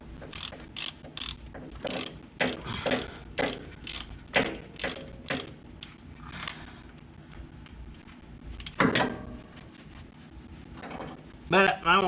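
A ratchet tightens bolts on the oil cooler of an International S1654 tractor, with a series of close, sharp clicking bursts in quick rhythm and some talk between strokes.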